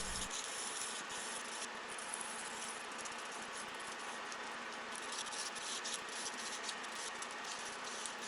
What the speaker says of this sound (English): I'm just going to take some 220 sandpaper and then polish up the face